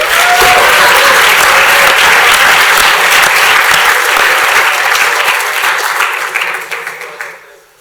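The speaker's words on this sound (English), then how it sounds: "let's give it a round of applause anyway." Audience at a student hackathon closing ceremony bursts into loud, dense applause that holds steady for several seconds, then thins and dies away at the end.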